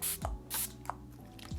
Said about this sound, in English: I like to go in with some sort of setting spray